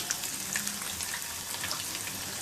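Cumin, mustard seeds, crushed garlic and dried red chili pieces crackle and sizzle in hot oil for sambar tempering, a steady dense hiss with small pops throughout, close and without talk.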